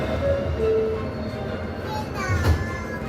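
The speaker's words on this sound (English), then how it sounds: "This is a World Trade Center bound E train." A New York subway E train bound for World Trade Center rolls through Midtown Manhattan with a loud, steady rumble and rattle of the cars, with faint squeals and murmuring under the din.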